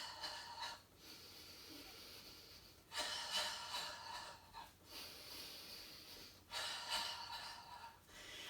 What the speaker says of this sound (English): exhaling through the mouth